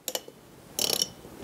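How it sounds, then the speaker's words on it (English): Metal-on-metal clicks from the spring on a CPU cooler mount during a PC build, with two quick taps early on, then a dense rattling burst of scraping clicks near the end, fairly faint and with no talking. "That noise you're hearing, it's just from the spring."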